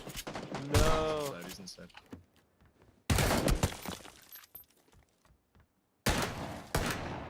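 Bursts of gunfire in the video game PUBG, three loud, sharp volleys of rapid shots separated by short gaps, with a person talking briefly between them.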